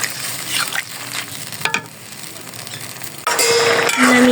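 Food with turmeric powder is sautéed in a pan, giving a close, loud sizzle broken by stirring and light utensil clinks. The frying swells louder toward the end.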